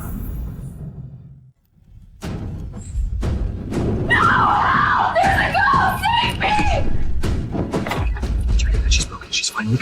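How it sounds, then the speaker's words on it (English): A woman screams for help at night, with repeated loud cries over thumps and bangs, and people talking around the screams. "Tonight she's screaming for help."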